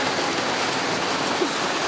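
Rain falls steadily on a zipline trip at La Mesa Eco Watershed, a constant even hiss with no breaks and no voices.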